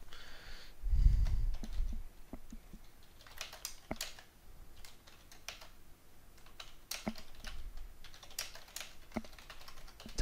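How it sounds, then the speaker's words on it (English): Fingers tap out a message on an iOS device's touchscreen keyboard, a run of soft, irregular taps and clicks close by, with faint background noise and no talk. "type in a message"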